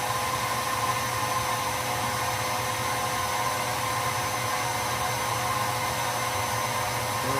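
A vacuum pump hooked to a home air conditioner runs in a steady, loud, unbroken whine with a constant airy hiss, with no voices.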